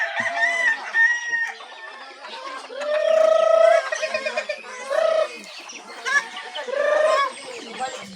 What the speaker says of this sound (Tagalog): Pagpakain ng mga alaga ni Boss Champ.